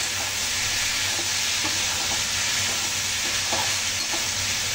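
Potatoes fry in a pan with salt, turmeric and chili powder for an aloo tarkari breakfast, giving a steady, close hiss of sizzling oil with faint stirring scrapes throughout, no talk.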